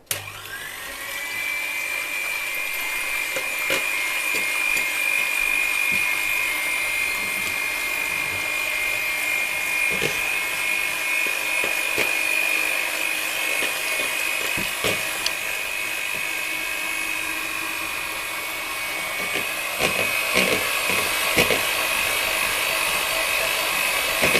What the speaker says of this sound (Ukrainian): Збиваємо спочатку на малі швидкості.